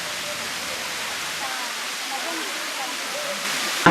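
Constant rushing wash of a small waterfall in Kandy, Sri Lanka, running thin in the dry season, heard from nearby as a steady even roar with a brief bump of louder noise at the end.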